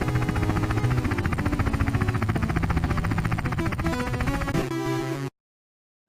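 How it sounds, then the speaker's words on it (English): An air ambulance helicopter's rotor thumps in a steady, rapid beat under a loud engine whine, continuous and close, then cuts off abruptly. "This is the air ambulance."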